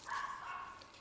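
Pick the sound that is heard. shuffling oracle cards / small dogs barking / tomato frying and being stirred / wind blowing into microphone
small dogs barking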